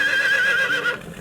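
A horse in the medieval survival game Medieval Dynasty gives one sustained, wavering whinny that fades toward the end, heard alone at moderate loudness.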